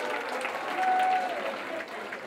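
A room full of people applauds at a hockey awards ceremony, a dense, even wash of clapping heard from a moderate distance and sustained throughout.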